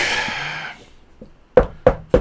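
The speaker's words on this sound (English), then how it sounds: "Knock wood." Three sharp knocks on wood, evenly spaced and close by, sounding after a moment of quiet.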